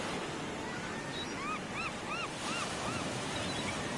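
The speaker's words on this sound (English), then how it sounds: "Take a look around with the open air, some of the music, and the sound of the seagulls flying around." Seagulls cry several times in a quick series of curling calls over a steady wash of ocean waves and breeze, the open-air seaside ambience of the video game Walkabout Mini Golf, with no talking.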